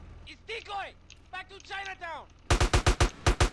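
Speech for a couple of seconds, then a rapid burst of loud, punchy gunshots in quick succession from GTA San Andreas gameplay.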